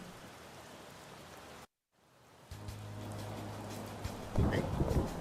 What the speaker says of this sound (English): Raining.